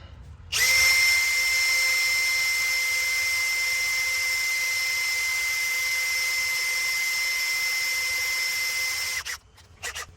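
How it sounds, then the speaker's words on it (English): A steady, high-pitched drill whine with a 2mm bit making a small divot in metal for a sway bar clamp set screw, about nine seconds, loud and close, constant tone before it cuts off and sputters briefly. "I'll come and drill the little divot"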